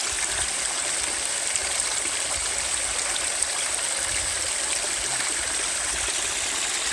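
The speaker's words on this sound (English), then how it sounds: "I get it from this fresh spring right here." Fresh spring water flows steadily beside the Appalachian Trail, a constant close, bright rushing and trickling with no voices over it.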